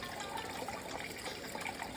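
Water swirling and churning in a Gold Bay gold-separating bowl, a steady close-up wash of liquid gurgle with no talking.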